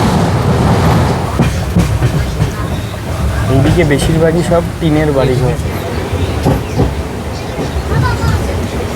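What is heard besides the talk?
Padatik Express passenger train running on the rails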